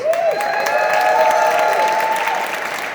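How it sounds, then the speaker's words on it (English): A crowd at a marijuana legalisation rally at the Saint Paul capitol claps steadily and loudly for about three seconds, dense applause with faint cheering and tonal voices above it, tapering slightly at the end. "Give each other a round of applause"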